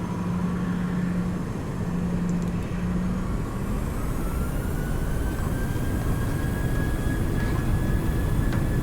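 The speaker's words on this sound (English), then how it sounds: "set takeoff thrust" Jet engines of a PMDG 737-800 in Ryanair livery spool up to takeoff thrust in MSFS 2020, a loud continuous roar and whine with a rising tone building steadily and alone.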